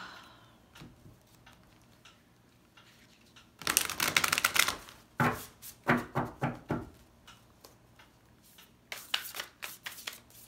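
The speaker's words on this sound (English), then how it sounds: "gonna shuffle these up better" A deck of tarot cards being shuffled in a few bursts of rapid riffling and flicking, close and fairly loud, with quiet pauses between.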